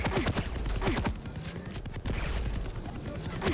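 Rockets and gunfire in a competitive video game match come as dense rapid bursts of shots and blasts, loud and continuous for several seconds.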